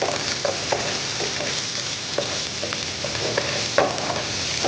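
Onions sautéing in a pan for chilli mushroom masala, a continuous sizzle broken by repeated scraping stirs of a spoon, close and even in level, with no talking.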